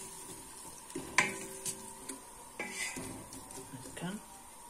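Vegetables frying in oil in a pot for a red couscous sauce, a steady soft sizzle under clinks of a utensil against the pot and stirring scrapes, with a few louder knocks.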